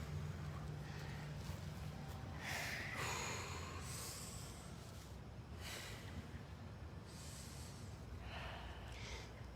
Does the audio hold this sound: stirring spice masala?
no